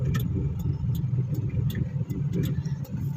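A fuel tanker truck's engine rumbles steadily nearby, a continuous mid-low drone with faint ticking clicks on top.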